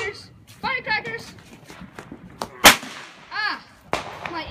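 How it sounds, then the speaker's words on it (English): Firecrackers are set off, and one sharp, loud bang cracks out mid-clip among a few lighter pops, with people talking and shouting around it. "We're setting off firecrackers."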